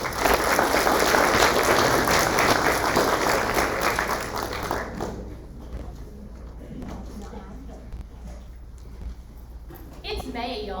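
Audience applause at a high school AP and honors parent info night, loud clapping from a room of parents that fades after about five seconds, followed by quieter room sound and a voice speaking.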